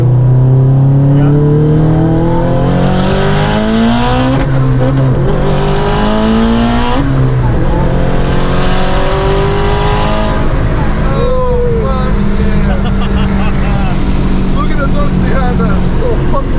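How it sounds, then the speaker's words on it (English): A Subaru STI engine revs hard and loud up close, climbing and falling in repeated sweeps while the exhaust roar stays heavy throughout. Voices can be heard faintly under it. "Rev it out a bit more for us, bud."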